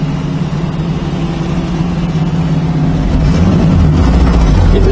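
A 1974 Chevrolet Camaro Z28 being driven, a steady low engine rumble with broad road and wind noise, the engine tone rising slightly toward the end.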